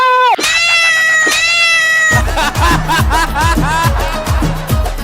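A cat meows in a Telugu comedy show skit: loud, drawn-out, wavering meows come close up at the start, then voices talk over the scene while short sounds continue.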